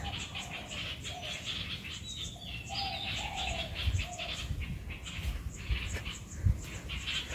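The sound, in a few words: birds calling in the evening at their nests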